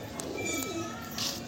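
A roller pigeon gives faint, soft cooing in a quiet setting, briefly heard under low background noise.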